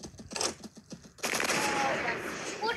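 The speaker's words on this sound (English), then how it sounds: "I shot it literally at the tail" Gunshots aimed at a dinosaur in the Dino Hunter: Deadly Shores hunting game start as a quick string of sharp shots, then give way to a loud sustained roaring blast of noise, with a voice talking faintly underneath.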